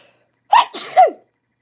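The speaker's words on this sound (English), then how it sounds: "So before I sneeze, hang on." A single loud sneeze, close up, with a sharp intake and explosive burst lasting under a second, surrounded by silence.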